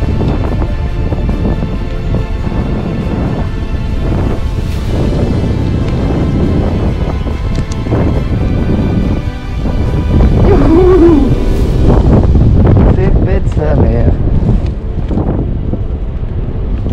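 Strong wind while paragliding buffets and roars over the microphone nonstop, loud and rumbling, with gusts and flapping surges throughout.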